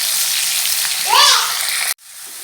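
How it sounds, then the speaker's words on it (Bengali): Onion, green chili and garlic fry in hot oil with a loud, close, steady sizzling hiss that cuts off abruptly near the end. "তেলের ভিতরে পেঁয়াজ, কাঁচামরিচ, রসুন এগুলো ভেজে নিচ্ছি।"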